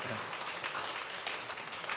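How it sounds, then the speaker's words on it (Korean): Applause during a Korean church worship service, a dense, steady patter of many hands held at an even level throughout, fairly distant in a large hall. "박수 한번 쳐줘요"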